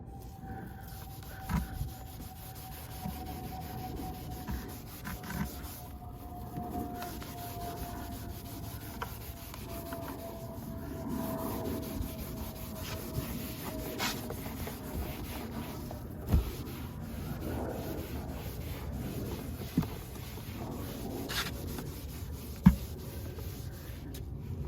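Soft, faint rubbing strokes on a white leather Tesla seat being cleaned by hand, a quiet continuous scrubbing with occasional light bumps, no voices.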